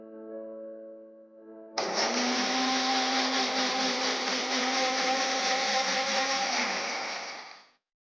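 A kitchen mixer grinder blends sugar and water for aam panna, a raw mango summer drink. A low tonal hum gives way to a loud, whirring roar from the motor, which runs steadily for about six seconds before stopping abruptly.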